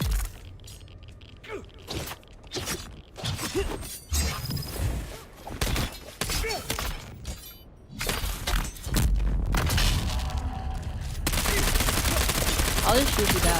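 Bursts of gunfire in the video game Dune Awakening, sharp repeated shots in rapid clusters with mechanical clatter, building to a dense, loud barrage near the end.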